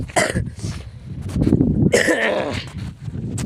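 A person coughs several times in short, rough bursts close to the microphone, with a raspy throat-clearing sound in between.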